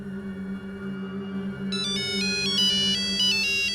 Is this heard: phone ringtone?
yes